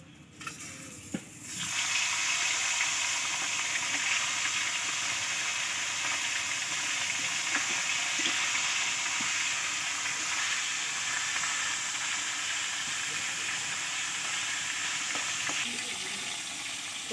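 Hilsa fish head dropped into hot oil in a pan, setting off a sudden loud, steady frying sizzle that carries on unbroken close by for the rest of the stretch, with no voices over it.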